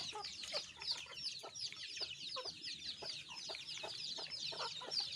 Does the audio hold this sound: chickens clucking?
yes